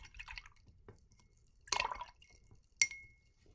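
A paintbrush swishes and taps in a water cup while being rinsed, with soft drips followed by a brief liquid splash and a small glassy clink, all close and quiet.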